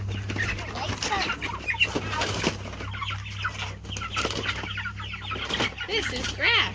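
Chickens being moved onto grass cluck and murmur in short, scattered bursts close by, with a low steady hum underneath and occasional rustling as the birds shift about.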